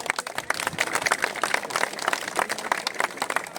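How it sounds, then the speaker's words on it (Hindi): People clap together at a Jharkhand workers' meeting where a strike is being called off, a dense, steady patter of hands lasting a few seconds. "ताली बजा दी भाई"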